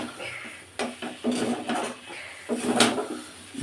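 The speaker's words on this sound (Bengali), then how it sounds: "এবার নুডলসটাকে ভালো করে নাড়তে হবে" Yippee noodles being stirred in a pan, a utensil scraping and knocking against the metal in uneven strokes, close and fairly quiet with no voices.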